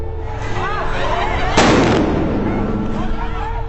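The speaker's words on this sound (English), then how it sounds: "But we hear some big bang explosion." A thrown explosive goes off at a street protest with a loud, sharp bang mid-clip, set against a constant crowd roar, whistles and sirens.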